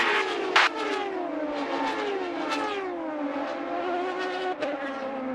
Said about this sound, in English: He revs the engine.